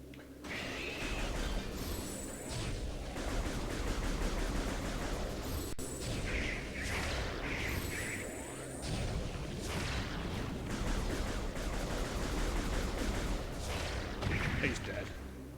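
Missile and super missile shots in Metroid Prime Remastered boom repeatedly across a steady stretch of game noise, with rapid blasts and bright zaps layered under continuous background action and no talking.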